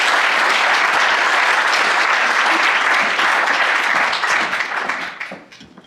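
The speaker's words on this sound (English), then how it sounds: "a big round of applause for EV Match" Applause from an evening audience at a university cleantech prize pitch competition, steady and full for about four seconds before tapering off as the clapping thins out.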